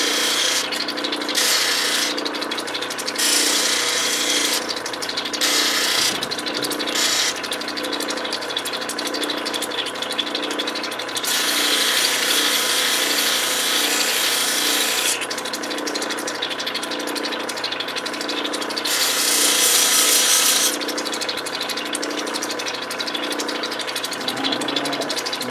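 Lightning Ridge crystal opal having its girdle and back bevel shaped on a lapidary wheel: a steady motor hum broken by repeated bursts of close, rasping grinding as the stone is pressed on and lifted off.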